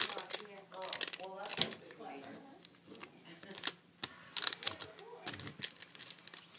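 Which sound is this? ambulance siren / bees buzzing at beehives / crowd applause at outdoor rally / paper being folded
paper being folded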